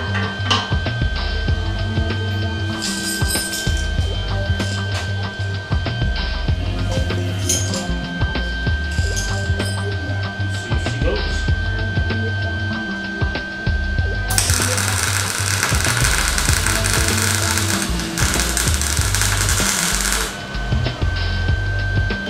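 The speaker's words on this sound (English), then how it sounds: "would you say that's a dirty weld right there?" A wire-feed welder runs on the bare metal of a car chassis, giving a steady crackling buzz with a stretch of louder, harsher sputter partway through, close up with no talk, the arc starved of shielding gas.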